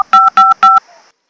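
Three short, loud touch-tone keypad beeps as a telephone number is dialed, evenly spaced, then a faint fading tail before silence.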